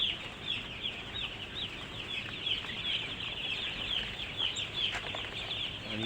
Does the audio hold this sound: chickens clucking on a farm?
yes